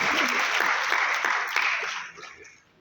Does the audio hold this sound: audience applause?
yes